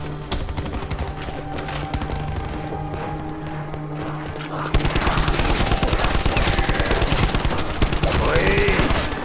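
Dense, continuous rattle of automatic gunfire with booming blasts in Call of Duty Black Ops 4 zombies mode, loud and unbroken, growing heavier and denser partway through over a constant rumbling bed.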